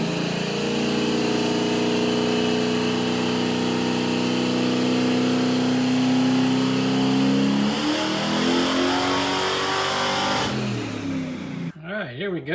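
A car engine with a Sniper setup revs on a dyno during its first 100-shot nitrous pull, a loud sustained climbing roar that ends with a sudden cutoff, followed by a brief burst of talk.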